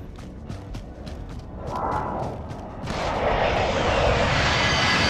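Helicopter rotor and engine noise in a military shooter game, a steady broadband roar that swells and grows louder partway through, with thumping impacts and distant booms of gunfire early on.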